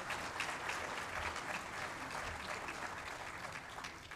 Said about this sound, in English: let's give the young man a round of applause